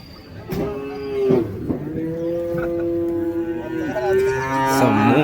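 Young bull calves at the Madrapalli cattle market low out in several long, drawn-out moos, loud and close, with a busy market murmur behind them.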